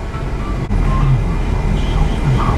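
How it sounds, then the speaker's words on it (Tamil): Metro train at Thirumangalam station in Chennai gives a steady, loud rolling rumble with a faint tonal whine, continuous throughout with one brief dip near the start. "Thirumangalam metro station."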